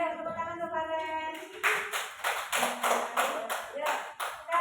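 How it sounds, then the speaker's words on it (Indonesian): Classroom clapping for a student, a short burst of rhythmic hand claps from a group of pupils following a voice, fairly close and moderately loud, settling into a steady beat. "tepuk tangan untuk Faren"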